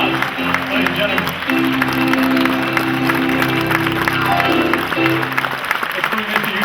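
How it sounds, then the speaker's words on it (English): Steady applause from a large audience at a TV game show hall of fame ceremony fills the whole stretch, loud and continuous, with a voice speaking over it. "Have a nice round of applause"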